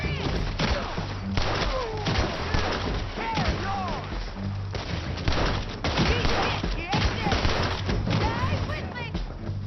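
Rapid gunfire from Red Dead Redemption 2 fills the stretch with dense volleys of overlapping shots and thuds, continuous and loud, while voices talk over the action throughout.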